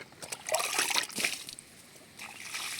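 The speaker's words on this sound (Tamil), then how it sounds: "10 லிட்டர் தண்ணியில் ஊற்றிக்கலாம்." Fermented groundnut cake solution poured into about ten litres of water, a close splashing trickle that surges twice in the first second and a half, eases, then returns as a lighter pour.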